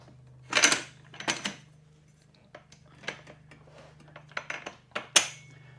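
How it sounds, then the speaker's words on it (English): Metal bolt sliding through the rail of an Evolution Rage 5S table saw stand during assembly, giving several short scraping clanks and taps spaced out over a quiet background hum. "slide the bolt through the stand rail until you get it through"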